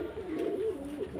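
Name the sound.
pigeons cooing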